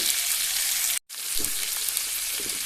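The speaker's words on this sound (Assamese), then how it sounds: "আৰু আলুখিনি দি এতিয়া পুনৰবাৰ মই ভালকৈ এনেকৈ লৰাই ল'লোঁ।" Potatoes hiss and crackle in a pan for a khaseng mekheng vegetable and fish curry, a continuous bright sizzle that cuts off for a brief moment, with a few soft stirring scrapes and no voices.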